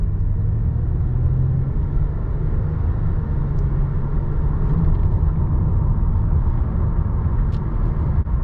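A 2009 Lexus ES350 cruising on the road, heard as a steady, muted cabin rumble of engine and tire noise throughout, with no talking.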